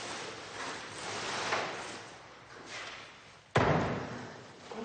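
A door closing at an animal shelter lands as one sharp, loud slam near the end, after a few seconds of soft rustling and low background noise.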